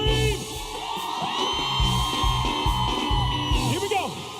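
A concert crowd at a live Christian reggae show inside a church in Curaçao screams, whoops and yells steadily and loudly, with voices layered over music throughout.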